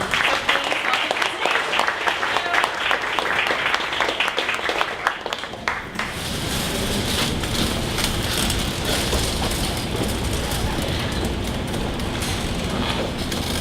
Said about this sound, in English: we always stand up with a big round of applause